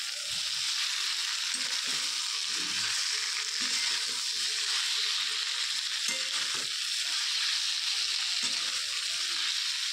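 Chicken and onions frying in a pan while being slowly turned with a spatula, a dense continuous sizzle with soft intermittent scraping strokes underneath, close and steady.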